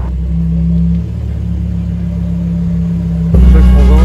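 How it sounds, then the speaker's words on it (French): A McLaren Senna supercar at a Paris hypercar festival, a loud low engine rumble that holds steady and then swells abruptly as the car passes close by. "C'est bestial. McLaren Senna."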